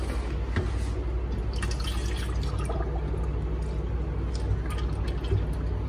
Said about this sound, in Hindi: तो अभी मैं इसका पानी निकाल देती हूँ।